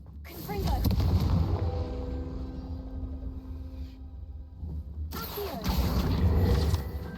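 A Confringo blasting curse in Hogwarts Legacy erupts as heavy booming, crashing blasts, fading into a lower rumble before a second loud burst near the end.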